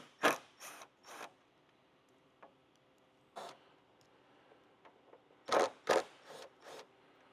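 Hand tools work the windshield bolts on a motorcycle fairing, a few sparse metallic ratcheting and scraping bursts close by, in small clusters separated by quiet stretches with low background hum.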